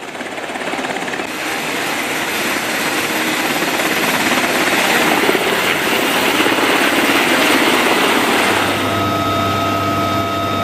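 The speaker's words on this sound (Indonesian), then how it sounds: "Sejumlah helikopter terpantau lepas landas dari markas komando CENTCOM" Military helicopters lift off from a CENTCOM base, a loud, continuous rotor roar with dense chopping thrum that swells and holds steady, a turbine whine emerging near the end.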